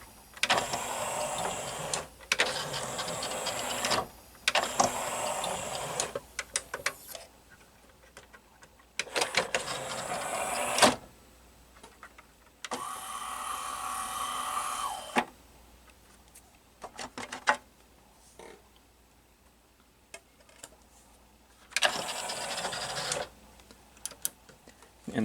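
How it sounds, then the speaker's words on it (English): A Kenwood DP-R4080 five-disc carousel CD changer's gear mechanism raises the CD drive, producing repeated whirring motor-and-gear bursts of a few seconds each, separated by quiet gaps, close and mechanical. "This is what makes the gear move to like rise up the CD."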